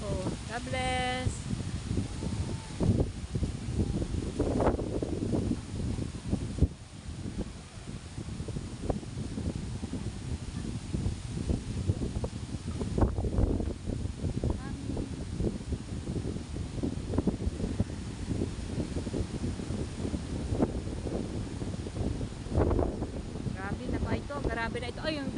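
Strong gusting wind buffets the microphone at a seashore during a typhoon, a constant loud rumbling roar with surf-like noise, while someone talks over it throughout.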